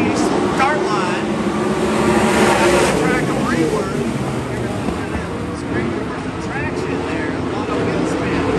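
Sprint cars at the start line of a race at Tulare ThunderBowl, a loud continuous engine roar with revving swells and wind buffeting, under an announcer's voice.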